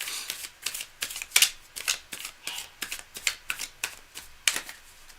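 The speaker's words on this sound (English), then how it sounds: "Cards are nicely shuffled." Tarot cards are shuffled by hand in a quick run of about a dozen crisp, riffling bursts. The bursts are close and evenly spaced, with no voice over them.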